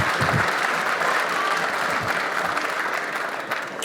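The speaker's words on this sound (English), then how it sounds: "Round of applause for Justin Hall," Steady crowd applause fills a pool hall at the Derby City Classic banks ring game, a dense even wash of clapping that holds strong throughout and tapers slightly at the end.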